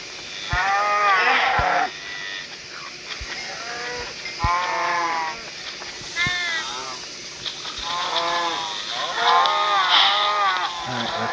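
Cows in Minecraft moo repeatedly, a series of drawn-out bellowing calls in irregular bursts, loud and close with short pauses and faint thuds between them.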